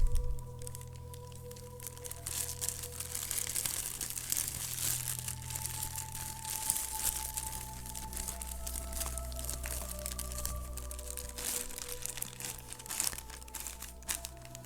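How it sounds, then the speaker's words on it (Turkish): A plastic bag is tied shut with black string, crinkling plastic rustling and crunching steadily throughout, with scattered sharp crackles and a low background hum, no voices. "Ve poşetin ağzını siyah renk ip ile bağlayın."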